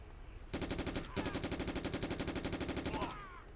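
Machine-gun fire in the 2009 PC shooter Jonathan Kane: The Protector, a rapid, evenly spaced automatic burst with a brief break after the first half second, then a sustained stream of sharp shots before cutting off.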